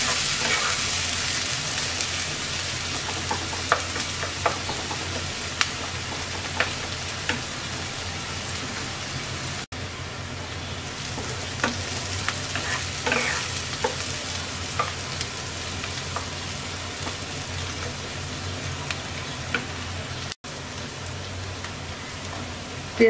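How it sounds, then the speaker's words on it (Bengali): Sliced onions fry in two tablespoons of oil until light brown for a koi fish and tomato curry, a constant close sizzle with scattered pops and occasional stirring scrapes, no talking. "দিয়ে দিচ্ছি 2 টেবিল চামচ তেল, পেঁয়াজটাকে হালকা ব্রাউন কালার করে ভেজে নেব।"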